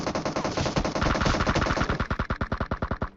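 Rapid automatic gunfire in an online shooter video game, a long sustained burst of closely spaced shots that becomes more distinctly separated toward the end, loud and close with no talking.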